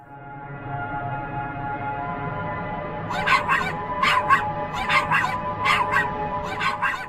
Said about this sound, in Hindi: अब तू भौंकना बंद करेगा या मार खाएगा, बता